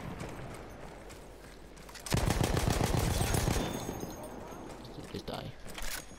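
A sentry gun in Battlefield 1 opens up in a loud, fast burst of repeated shots for about a second and a half, then trails off into scattered battle noise, with someone talking before and after.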